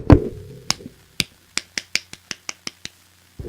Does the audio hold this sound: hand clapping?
yes